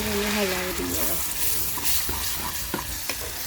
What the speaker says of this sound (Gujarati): હવે મને નાખી દઈએ ભટ્ટાનું ભરડું. મિત્રો નાખી દઈએ અને એને હલાવી દઈએ.